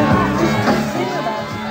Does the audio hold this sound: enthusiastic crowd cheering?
yes